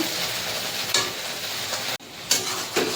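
Curry with taro stems, poppy seed, coconut and prawns is stirred as it fries in a pan, a steady close sizzle broken by a few sharp scrapes of the spoon.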